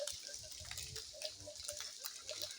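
Water flows and splashes faintly through a forest setting near a small bridge, a soft burbling stream with light trickles and drips, quiet and continuous.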